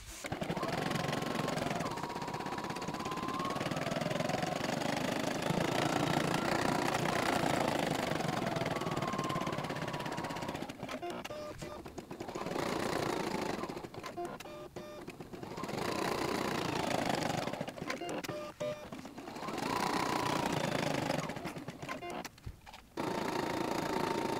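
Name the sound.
Poolin EOC05 embroidery machine stitching eye outlines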